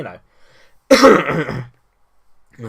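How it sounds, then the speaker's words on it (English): A single harsh, raspy cough or throat clear bursts out between brief moments of quiet, with a faint breath or voice at the edges. "I've seemed to have unfortunately got a bit of a cough"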